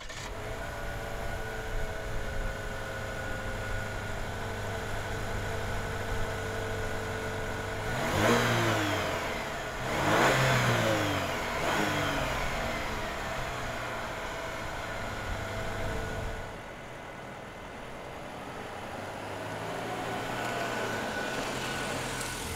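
A 2022 Buick Envision Avenir FWD SUV drives on the road, giving a steady low engine and tyre hum, with two swelling passes of acceleration midway before it settles to a quieter cruise.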